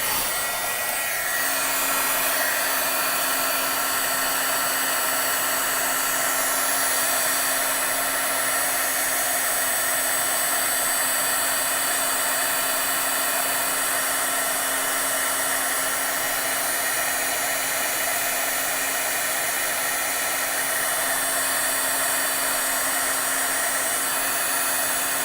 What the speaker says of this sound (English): So we're going to heat this up.